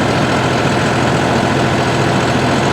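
A John Deere 5405 CRDi tractor engine runs in 4x4 gear at about 1700 rpm, a constant, loud, droning rumble with no pauses.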